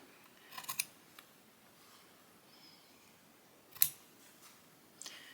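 Scissors trim quilt fabric in a few quiet, crisp snips spaced apart, with a sharper cut near the middle and faint rustling between, in an otherwise quiet room.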